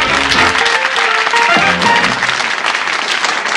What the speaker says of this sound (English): Give them a round of applause, boys.